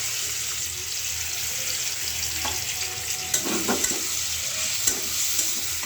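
Onion added to spice-coated meat frying in a pan, a steady sizzle with clinks and scrapes of stirring, close and moderately loud with no talking.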